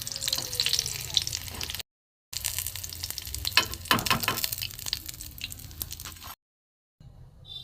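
Ash gourd fritters deep-frying in hot oil give a steady crackling sizzle with bursts of bubbling, broken by two short silent gaps.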